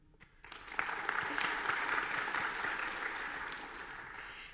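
An audience at a career education recognition and awards ceremony breaks into applause that swells quickly after a quiet moment, holds as dense steady clapping, and slowly tapers toward the end.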